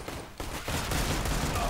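Gunfire in Counter-Strike: Global Offensive, a dense, continuous burst of shots that starts after a brief lull and carries on steadily at high level, with no voice over it.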